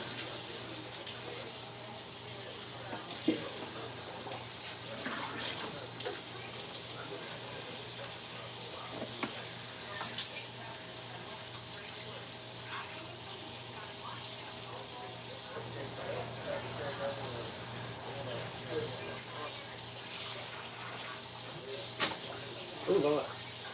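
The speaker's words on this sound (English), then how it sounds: "So let me go ahead and wash my sink out." Tap water running steadily into a kitchen sink while pork ribs are rinsed, a continuous soft splashing flow with occasional clunks, and someone talks intermittently over it.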